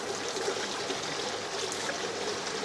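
Orange mine water drains out of an old, overgrown mine outlet into a stream, making a steady, close trickling and babbling rush with no voices.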